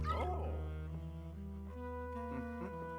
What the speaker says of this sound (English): Ah, it's our ghost dog.